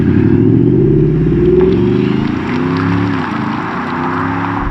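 A twin-turbo diesel Audi SQ8 SUV with an electric turbo, heard from inside as it drives and accelerates: a loud, steady low engine drone rising in pitch through gear changes, with no talk.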